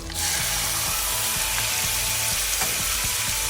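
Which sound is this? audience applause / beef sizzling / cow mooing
beef sizzling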